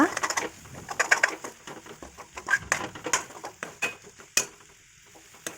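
Egg is stir-fried in oil for a drumstick leaves egg thoran, with a spatula scraping and tapping the pan in irregular bursts over a soft, steady sizzle; no voices are heard.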